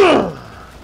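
Smart Pistol gunfire in the video game Titanfall: a single loud, sharp burst right at the start with a quickly falling, ringing tail that fades into a low background.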